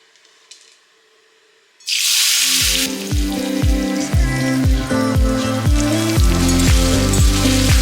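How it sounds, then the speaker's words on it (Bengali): Bitter gourd hits hot oil in a pan with a sudden loud sizzle that settles into steady, close frying crackle, accompanied by repeated knocks of a spatula stirring. "ফ্রাই করবে প্রথমে কিন্তু উচ্ছেটা অ্যাড করে একটু নাড়াচাড়া করে নেবে"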